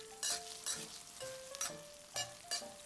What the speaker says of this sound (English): when I stir fry the peppers, is to add a few drops of rice vinegar